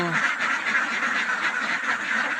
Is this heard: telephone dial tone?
no